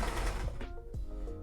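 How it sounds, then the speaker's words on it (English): Sewing machine stitching tails onto a fancy coat, its motor running in a steady dense whir through the whole short stretch with a few brief pulses, fairly close and alone. "I'm currently attempting to sew the tails onto the coat."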